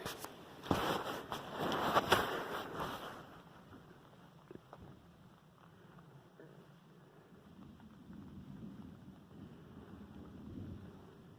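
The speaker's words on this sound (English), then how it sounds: "I want to see if we can pick up a little bit of this wonderful thunder that's coming through the mountain." Thunder rolls through the mountains during rain, opening with a loud, crackling burst that fades over a few seconds into a low, distant rumble lasting to the end, with no talking.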